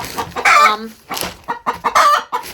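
Chickens cluck and squawk close by in short bursts, several birds calling over one another in a busy, noisy coop.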